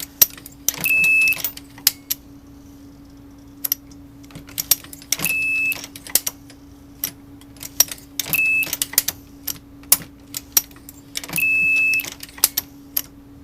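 A Dillon 650 progressive reloading press being cycled with its shell plate turning: repeated mechanical clacks and clicks in several bursts, with short rattling runs of metal parts and a constant low hum underneath.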